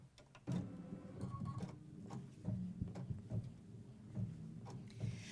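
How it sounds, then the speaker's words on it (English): An embroidery machine running a placement stitch for quilt batting on a no-show mesh stabilizer, a quiet mechanical whir with rhythmic needle thumps and small clicks, close and steady, no talking. "I'm going to go ahead and run my first machine step, which will be the placement stitch for my batting"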